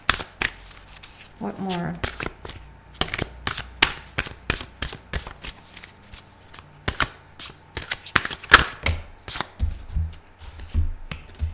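Tarot cards being shuffled by hand in a series of sharp, uneven riffling bursts, close and fairly loud, while a person speaks briefly between them.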